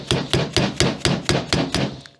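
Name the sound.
hammer gently tapping putty knife under Honda GC valve cover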